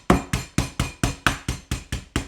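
Chicken breast pounded under parchment paper with a meat mallet for green spaghetti: nine even, moderate thuds in a steady rhythm, close and alone.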